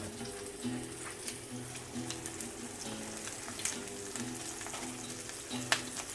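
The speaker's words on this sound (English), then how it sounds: "Get that nice and seared on the skin side" Salmon fillet sears skin side down in a hot pan, giving a steady close sizzle and fry crackle with occasional light clinks, for a kimchi-over-rice dish.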